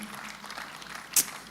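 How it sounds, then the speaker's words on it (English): Conference audience at a small-business enterprise fair gives a short, light round of applause, distant and thin, with one sharper clap near the end. "A round of applause for,"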